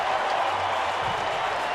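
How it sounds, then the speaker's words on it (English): Baseball stadium crowd applauding Dexter Fowler's throw home for an out at the plate in a Padres at Rockies game, a broad steady wash of clapping and crowd noise, fairly loud and continuous throughout. "Yeah, stand up and applaud."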